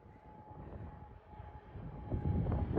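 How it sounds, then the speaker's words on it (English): A military training jet passes overhead, a broad low rumble that swells steadily toward the end as it draws nearer and grows louder. "That's the training jet from the military."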